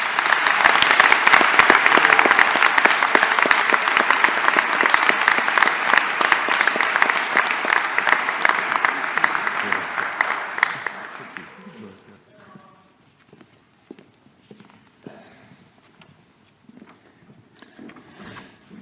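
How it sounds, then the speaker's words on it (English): Sustained applause from a large audience at a design graduation ceremony in Melbourne, loud and dense for about ten seconds before thinning out into scattered claps and faint room noise. "Please join me in a round of applause, not for my words, but for all of us here."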